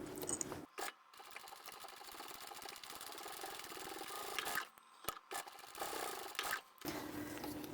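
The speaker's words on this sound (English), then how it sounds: "I'll stitch this twice" A sewing machine runs a steady seam twice along the edge of a small lined boxy bag with a zipper tab, a continuous close mechanical whir broken by brief pauses between passes, no talking.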